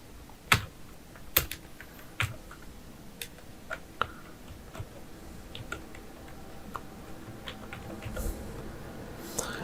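A name is typed on a computer keyboard as irregular light key clicks, with a few sharper strikes early and quieter taps after, close and otherwise quiet.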